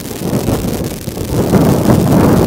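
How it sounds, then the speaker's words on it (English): Wind gusts buffet the microphone at an outdoor softball game, giving a continuous loud rumbling roar that swells stronger in the second half. No voices are heard. "Now a gust of wind kicks up."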